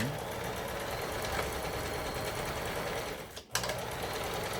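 A Lion Pearl 15 household sewing machine runs continuously after repair, giving a steady, close mechanical whir with a rapid stitching rhythm and a brief dip near the end.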